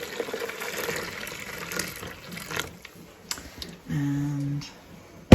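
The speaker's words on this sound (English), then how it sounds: "I just need some boiling water." Boiling water pours from a kettle onto kitchen cabinet handles to degrease them, heard as an irregular trickling and splashing with light clinks and taps nearby, then a brief steadier pour near the end.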